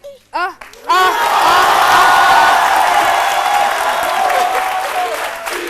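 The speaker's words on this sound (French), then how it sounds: "Philo applaudit avec ses pieds" A crowd breaks into loud applause with cheers and whoops after a few brief voices, the clapping sustained and close.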